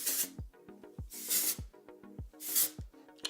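Three short hissing spray bursts, evenly spaced, with quiet tonal music between them.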